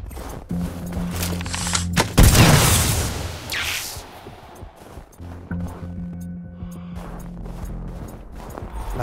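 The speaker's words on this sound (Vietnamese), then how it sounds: "Lại súng máy nữa, nó đâu ta?" Machine gun fire in the video game Sniper: Ghost Warrior Contracts: a loud rattling burst with a heavy booming impact, trailing off into distant intermittent shots, with brief low voices in between.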